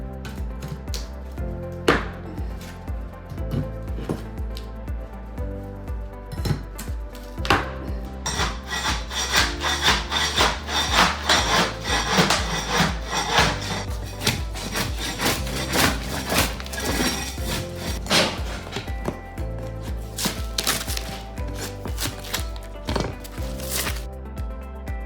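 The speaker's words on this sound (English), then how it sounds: "I'm going to be scraping up some of the old linoleum off of the original hardwood in the kitchen" Old linoleum is scraped off original hardwood kitchen flooring during demolition, a loud, close run of rough rasping strokes and scrapes with sharp knocks and clatters between them, sustained without pause and with no talk.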